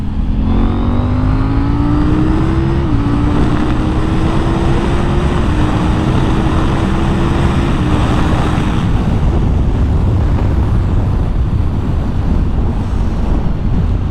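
KTM 890 motorcycle ridden at speed, a loud steady engine drone that climbs through a few gear changes, mixed with heavy wind rush over the microphone and no speech.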